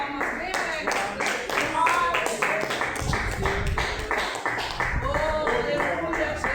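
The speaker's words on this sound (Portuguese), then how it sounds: "Vamos receber o servo de Deus com as palmas bem abertas." A church congregation claps in a steady rhythm to welcome the preacher, with a voice speaking over the applause throughout.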